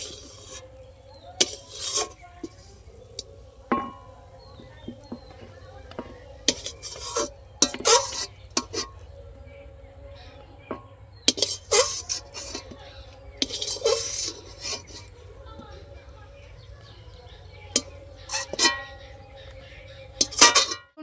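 A spoon scrapes and clinks around a pan as cumin powder is stirred into mashed flat beans, giving irregular sharp metallic knocks over a steady low hum, close and moderately loud with no talking.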